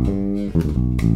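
A short rock/funk bass guitar fill with a little skip in it, a held low note followed by a few quick plucked notes, clear and close with no talking.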